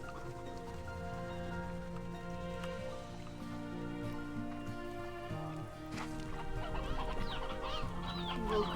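Chickens clucking in the video game Slime Rancher 2, several bird calls over steady layered game music, growing busier toward the end.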